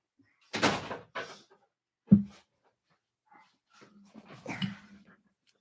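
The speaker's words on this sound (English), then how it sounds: "The dog's barking." A dog barks a few times indoors, close by, with sharp separate yelps, a thud like a door closing, and whimpering sounds at the end.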